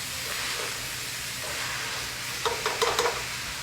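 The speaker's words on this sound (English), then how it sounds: "This is the best way to brown your ground beef, to get it flattened out so you can brown it." Ground beef browning in a pan, a steady broadband sizzle and hiss close by, with a few louder spits and pops near the end.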